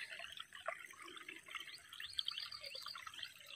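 A faint, steady trickle of water seeps out of a rice paddy through a gap blocked with stones, making a soft, continuous burble with no voices.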